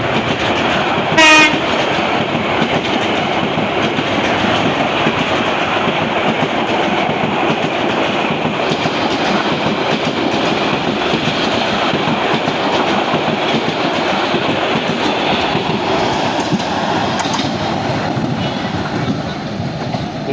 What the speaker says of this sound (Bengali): এই যে দেখেন ট্রেনটা কিন্তু ওই যে চলে আসছে